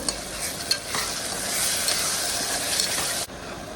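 A ground paste of ginger, garlic, coriander, green chili and mint sizzles steadily in hot oil for vegetable biryani, with stirring scrapes over the constant frying hiss before it cuts off near the end.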